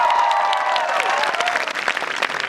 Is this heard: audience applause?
yes